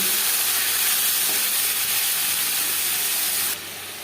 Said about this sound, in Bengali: পাঁচফোড়ন তেজপাতা ভেজে নেওয়ার পর দিয়ে দেবো আলু আর ঝোল